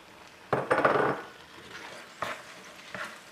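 Green pepper and mushrooms stirred into hamburger goulash in a pan: a loud burst of clattering utensil-on-pan scraping, then quieter intermittent knocks and stirs over a soft sizzle, close up.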